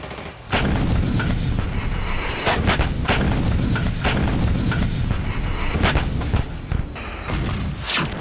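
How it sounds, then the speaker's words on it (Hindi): Heavy gunfire and artillery-like booms from fighters firing on Armenia during the Armenia–Azerbaijan war, repeated sharp blasts at an irregular pace over a dense, rumbling background, loud and sustained. "आर्मेनिया पर जबरदस्त गोलीबारी कर रहे हैं"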